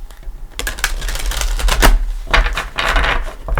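Tarot cards being shuffled by hand, a quick series of crisp riffling and clacking bursts, close and loud, with no talk over them.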